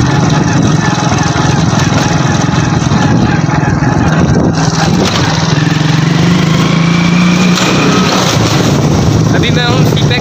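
Motorbike engine droning steadily during a ride on the road, loud and close with wind rushing across the microphone and no pause in the noise.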